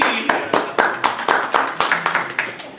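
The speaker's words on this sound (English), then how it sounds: "That was a weak ass applause for my friend." Sparse, uneven applause from a small audience at a retro convention panel, about a dozen separate claps spread out unevenly and fading slightly over a few seconds, with no voices over them.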